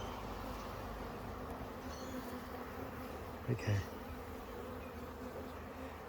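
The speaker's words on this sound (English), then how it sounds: "Look at the bees all over it." Bees swarming over a freshly planted flower in a garden, a steady close buzzing hum that runs throughout, with a single brief word spoken near the middle.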